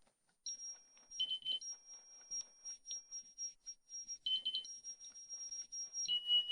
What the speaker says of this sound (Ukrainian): Набираю розряд.